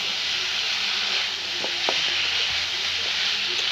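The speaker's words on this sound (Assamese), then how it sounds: "এয়া 4 মিনিট মান সময় মছলা আৰু চিকেনখিনি লগ হোৱালৈকে ভাজি" Local chicken frying with spices in a pan for an Assamese Mising-style dish, a close continuous sizzle with a few soft clinks of stirring, no voices.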